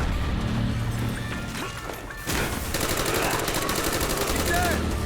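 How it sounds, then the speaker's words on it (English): Frag grenade blast in the Call of Duty: Black Ops campaign, a sharp crash about two seconds in followed by a sustained burst of rapid gunfire and debris, loud and close, with game voices faintly underneath. "Throwing a frag!"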